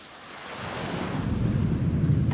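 Sea waves wash steadily under wind as a small boat sails out to sea, the surf and gusts swelling gradually louder and fuller over the few seconds, with no voices.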